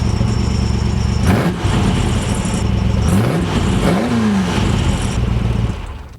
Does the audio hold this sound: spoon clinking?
no